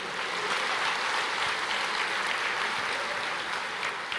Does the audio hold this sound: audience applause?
yes